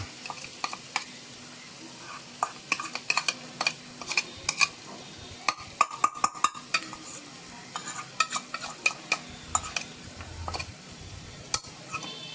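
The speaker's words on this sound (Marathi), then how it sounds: "आता हा दहीचा मसाला देखील आपल्याला परतून घ्यायचा आहे चांगला" Onions and a yogurt-based masala stir-fry in a pan, a steady soft sizzle broken by frequent close clicks and scrapes of a spatula against the metal, with no talking.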